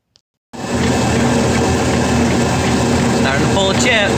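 A 1¼ inch drill bit boring holes for winch bolts on a Clark skidder starts abruptly after a brief silence, then grinds on as a loud, continuous, steady whirring roar.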